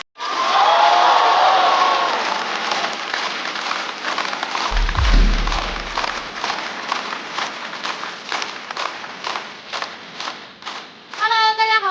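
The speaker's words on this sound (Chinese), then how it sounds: "掌声欢迎步惊云。" A comedy-show audience cheers and claps loudly to welcome stand-up comedian Bu Jingyun onstage; a broad roar of crowd noise settles into steady rhythmic clapping, with a low thump near the middle and shouts rising again at the end.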